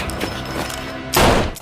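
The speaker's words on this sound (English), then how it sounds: "Soon the thugs spot Mercer and open fire." Gunfire erupts in a factory shootout from a film, a burst of rapid shots rumbling over a tense backing track, with the loudest volley crashing in near the end.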